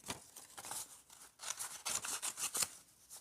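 Scissors snipping paper into small pieces for a surrealist collage, a quick run of soft, close, irregular cuts and rustles at low volume, with no voices.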